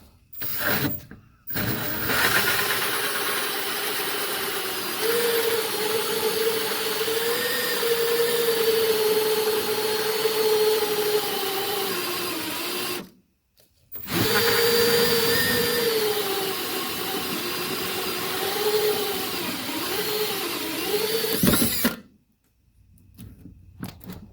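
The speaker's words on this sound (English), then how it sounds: "we can finish drilling our hole." A power drill runs in long, loud, sustained bursts with brief stops between them, its whining pitch wavering as it bites into the metal of an emptied vehicle fuel tank.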